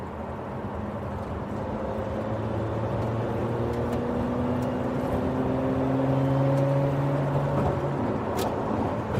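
A 2020 Ford GT sports car cruises along with a steady, droning engine hum and gently shifting engine tones, heard from inside the cabin over continuous road rumble.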